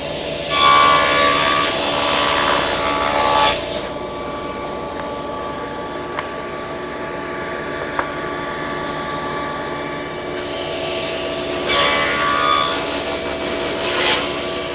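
A table saw whines loudly as it cuts through wood for a picture frame, with two louder bursts of the blade biting in at the start and end and a steady motor hum between.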